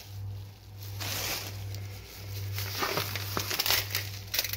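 Wide plastic freezer bags crinkle and rustle as they are spread flat on a kitchen surface for salted fish, a steady near crackle with sharper crinkles toward the end over a low constant hum.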